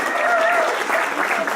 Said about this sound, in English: let's give Gulbara another hand of applause